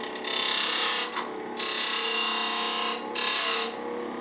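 A small wooden box top spins on a lathe while a gouge shapes it, loud bursts of hissing, scraping cutting alternating with brief quieter pauses as the tool lifts off, close and without speech.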